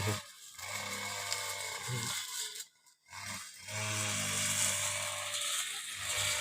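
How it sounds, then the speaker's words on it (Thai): A grass cutter trims grass outdoors, its motor buzzing in steady bursts that drop out briefly near the middle before resuming at a strong, even level. "ลูกน้องตัดหญ้าอยู่นี่"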